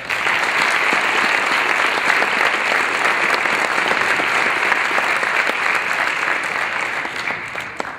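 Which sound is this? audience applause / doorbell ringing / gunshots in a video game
audience applause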